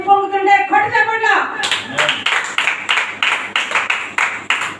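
A church congregation at a fasting prayer meeting claps in a run of loud, sharp, evenly spaced group claps, following a preacher's raised voice at the start.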